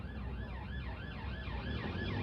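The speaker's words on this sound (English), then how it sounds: "That's an ambulance, Nina." An ambulance siren wails steadily up and down in a smooth repeating cycle, loud and continuous with traffic rumbling underneath.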